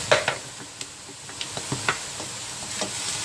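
Lumpiang sariwa filling stirred in a pan: a spatula scrapes and clacks in scattered strokes over a steady, soft sizzle, close and fairly quiet, with no talk.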